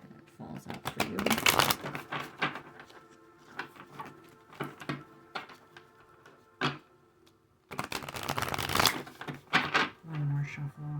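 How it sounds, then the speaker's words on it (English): Oracle cards shuffled by hand in bursts of riffling and spinning, close and crisp, with short pauses between bursts and a softer rustle near the end. "One more shuffle as I'm spinning them around."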